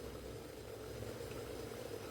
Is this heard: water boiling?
yes